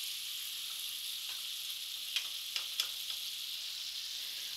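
Tomatoes fry in a pan with a steady, bright sizzle throughout, and a few faint utensil ticks come through near the middle.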